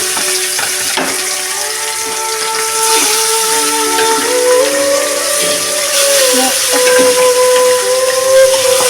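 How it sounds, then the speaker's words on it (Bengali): Rohu fish pieces frying in hot oil in a kadai, a loud, continuous close hiss and sizzle with whistling, steamy tones running throughout. "এবার আমি মাছগুলোকে একটা একটা করে দিয়ে মাছগুলোকে কড়া করে আমি ভেজে নেব"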